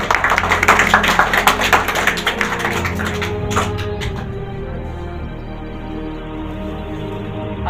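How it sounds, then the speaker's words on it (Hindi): An audience in a hall claps in applause, starting as dense, loud clapping that thins out over a few seconds into a steady room hum with scattered claps. "क्या ताली नहीं होगी इसके लिए?"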